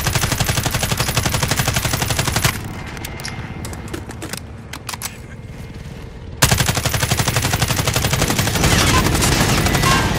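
Rapid automatic gunfire in Modern Warfare: Warzone, dense bursts of shots that stop for a few seconds of quieter scattered noise, then resume just as loud and fast.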